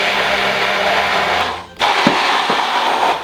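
An immersion blender whirs steadily as it purées harissa, sherry vinegar and vegetable oil, cutting out briefly partway through before starting again at full, close-up loudness.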